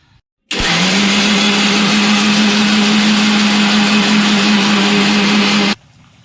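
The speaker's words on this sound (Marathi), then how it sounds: "आता बनवूया मिक्सरमध्ये याचं काढूया आता पेस्ट" An electric mixer grinder blends fried onion and tomato into a paste, starting abruptly and running as a loud, steady, high-pitched whir for about five seconds before cutting off, with no talking.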